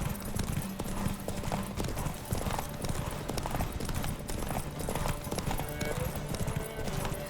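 Roach, a horse in The Witcher 3, gallops in a fast, dense clip-clop of hooves that carries on throughout, with someone talking over it and a brief whinny.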